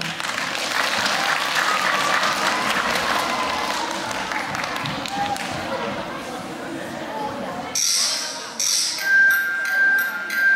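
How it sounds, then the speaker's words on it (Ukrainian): Audience at a children's dance show applauding after a performance, dense clapping that fills the hall and then thins out, with a quieter crowd murmur and a few higher tones near the end. "Підтримайте оплесками."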